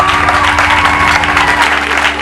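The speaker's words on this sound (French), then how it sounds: "est-ce qu'on peut applaudir pour les mariés," Guests at a customary wedding applaud the newly married couple with a brief, loud, continuous burst of crowd clapping.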